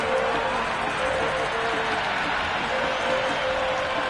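Cricket crowd applauding a boundary shot at a Women's Premier League match between Mumbai Indians and Royal Challengers Bangalore, dense steady clapping and cheering from a large stadium, with a commentator speaking over it.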